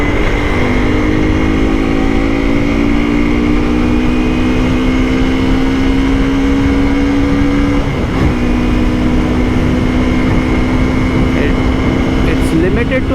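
A new Hero Xtreme 200S single-cylinder motorcycle engine runs close and loud with a steady, slightly rough humming drone. Its pitch climbs gently, dips briefly, then carries on.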